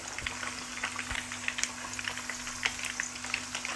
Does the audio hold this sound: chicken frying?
yes